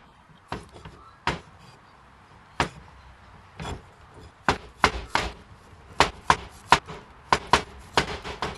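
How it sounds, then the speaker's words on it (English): A knife chops garlic on a cutting board in sharp, close knocks, scattered at first and then coming in a quicker, irregular run of about a dozen strikes. "Then next, I'll do the garlic. I'll cut the end off."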